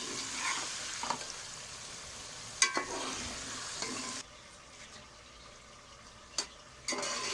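Desi-style noodle masala sizzles and fries in a pan while a spoon stirs it, with a soft steady crackle broken by occasional sharp scrapes and clinks against the pan.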